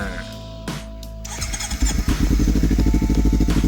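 A Kawasaki Ninja Z250 fitted with a Yoshimura exhaust cranks over and fires up close by, then settles into a loud, steady, throbbing idle.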